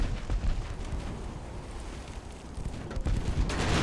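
Warship guns fire in the naval video game Ultimate Admiral: Dreadnoughts, a dense run of booming shots and rumbling blasts over a constant low roar, loudest at the start and end.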